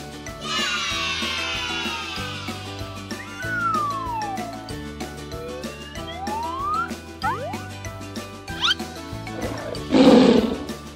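A deep, rough big-cat roar bursts out near the end, loud and close, over a steady rhythmic music bed with swooping tones.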